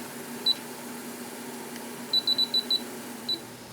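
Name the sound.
kitchen timer being started, beeping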